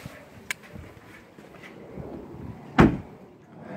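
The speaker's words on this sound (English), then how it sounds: "sliding rear doors on this generation Sharan are standard" A rear sliding door on a 2014 Volkswagen Sharan TDI SE runs along its track and shuts with a single loud, close thud near the end, following a faint click earlier, with no talk.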